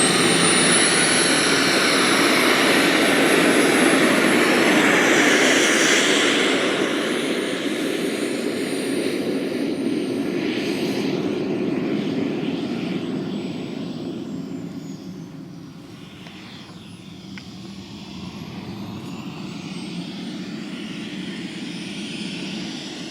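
A Boomerang Ranger model jet with a Swiwin 120 turbine flies, roaring steadily and loudly, its whine fading somewhat partway through before holding at a lower level, with no talking.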